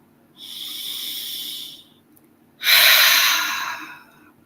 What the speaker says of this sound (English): let's just inhale